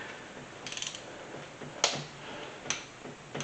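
A torque wrench handle is turned to change its setting while working on engine cylinder heads, producing a quick run of soft ratcheting clicks followed by two sharper isolated metallic clicks in a quiet shop.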